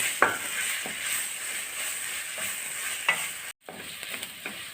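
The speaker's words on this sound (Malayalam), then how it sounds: "ഇനി നമുക്ക് ഈ പൊടിയുടെ പച്ച മണം മാറി വരുന്നോളം വരെ ഒന്ന് ഇളക്കി കൊടുക്കാം." Pepper powder and spices for chicken mappas frying in oil in a pan, a loud steady sizzle with occasional scraping strokes of a stirring spoon, close up, with a brief gap partway through.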